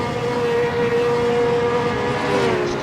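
A 1967 Ferrari 312 race car engine in a racing video game at Silverstone holds a loud, sustained high whine at a steady pitch, drifting slightly, with no talk over it.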